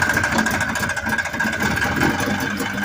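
A Yamaha Excel III 340cc snowmobile engine runs close by with a loud, steady, buzzing drone that holds without a break.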